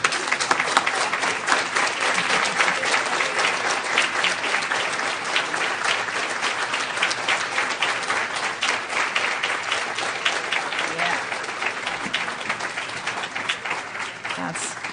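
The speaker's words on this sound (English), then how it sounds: "How about we stand up and give them a round of applause," A standing ovation at a 2025 long-term care awards ceremony: a large audience claps in a loud, continuous, crackling roar that holds steady for fifteen seconds, with scattered sharper claps and no talking over it.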